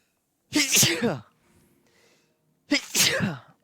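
Two loud sneezes, separated by a quiet pause with faint breathing.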